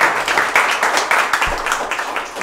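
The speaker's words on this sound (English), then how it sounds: "So please give Lindsay a big round of applause" An audience at a community sheriff's event applauds, a dense, continuous burst of clapping from many people that keeps up for a couple of seconds before it begins to thin.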